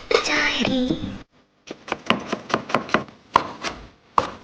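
A knife chops food on a board in a run of crisp, evenly spaced taps that follows a voice speaking briefly and a short pause.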